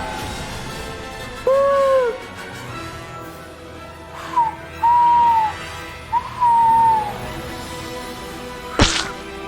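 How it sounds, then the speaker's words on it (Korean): An owl in the video game Hogwarts Legacy gives three clear whistled hoots, each a drawn-out tone, spaced a couple of seconds apart over quiet ambience, followed by a short sharp click near the end. "어, 부엉이다!"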